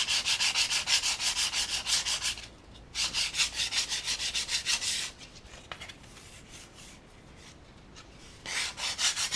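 Sandpaper rubbed by hand on a small model tree for a model railway, a rapid rhythmic scratchy rasp in close, steady strokes, coming in three bursts separated by quiet pauses.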